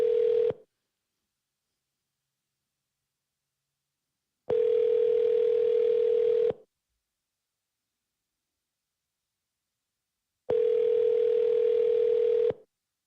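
A telephone line gives a steady ringback-style tone in three long bursts separated by silent gaps, clean and moderately loud with no talking.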